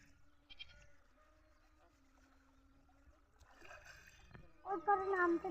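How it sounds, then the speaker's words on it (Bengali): Goats being loaded onto a river boat give a few short, wavering bleats that build near the end, rising over faint background voices and a quiet, open outdoor ambience. "এখন আপনারা দেখেন ছাগলগুলো কিভাবে তোলা হয়।"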